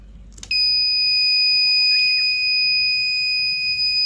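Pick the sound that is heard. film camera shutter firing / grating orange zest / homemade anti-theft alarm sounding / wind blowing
homemade anti-theft alarm sounding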